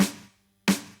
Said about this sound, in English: So this is the main snare sample.